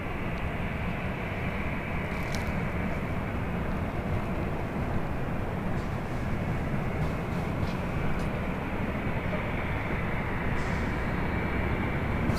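A Delta Airlines A319 departing LAX for Las Vegas, producing a steady, broad, distant roar of jet engines that holds constant throughout, with no talking.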